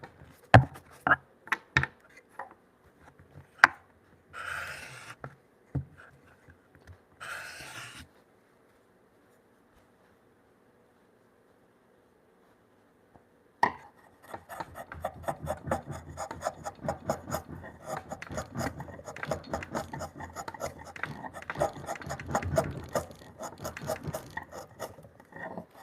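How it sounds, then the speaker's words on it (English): Steel chisel being sharpened on a 1500 grit sharpening stone, heard up close: a few taps and short rubbing strokes, a quiet pause, then a long continuous run of gritty scraping strokes. "I've been sharpening this chisel for like an hour now."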